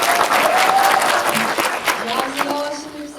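Cinema audience clapping at a film Q&A for the movie 1987 at CGV Yeongdeungpo, loud continuous applause with a voice talking over part of it.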